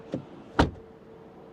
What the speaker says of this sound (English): Door closing sound, first the front.